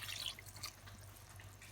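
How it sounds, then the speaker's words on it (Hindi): Water poured into a pan of peas for matar pulao, a steady close splashing and trickling of liquid that is louder at first and then settles into a softer flow, with no talking. "अब इसमें मैं 4 कप पानी डालूंगी"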